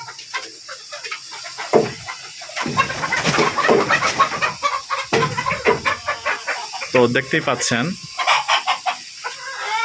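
A flock of Fayoumi chickens on a village farm clucks and squawks loudly and continuously in rapid, overlapping calls, close by, while someone talks over them.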